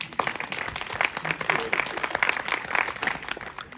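An animation convention Q&A crowd claps in a lively, uneven burst of applause with distinct close claps, lasting about four seconds.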